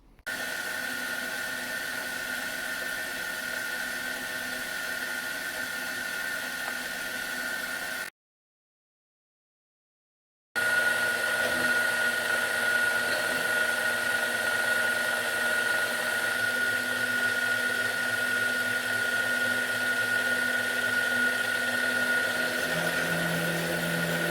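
A micro mill running test cuts with its newly mounted spindle motor, giving a steady, loud whine and cutting noise that drops out for a couple of seconds midway, then resumes with a shifting lower tone near the end.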